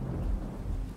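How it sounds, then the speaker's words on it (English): A thunderstorm in the 7 Days to Die video game, heavy low rumbling thunder rolling continuously with a wash of rain beneath it, loud and close, no voices. "God, that's a hell of a storm, isn't it?"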